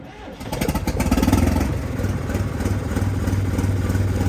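A motorcycle fitted with a new chrome steel silencer fires up and settles into a steady, throbbing idle, close and loud, with voices faint underneath.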